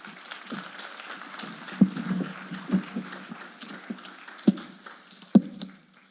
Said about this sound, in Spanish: ¿Por qué no se regala un fuerte aplauso usted ahí?